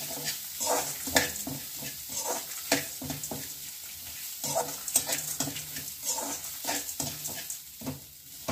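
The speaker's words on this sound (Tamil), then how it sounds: "இந்த தேங்காய் துருவல்ல துருவின தேங்காய் ஒரு 1/2 கப்பு, அதையும் நல்லா வறுத்துக்கோங்க." Half a cup of grated coconut roasts in a pan for groundnut rice, stirred with steady, repeated scraping strokes over a soft sizzle, close and unhurried.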